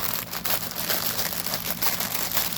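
A plastic packaging bag holding cross stitch kit threads crinkles and rustles loudly up close in continuous crackling bursts as it is handled and opened.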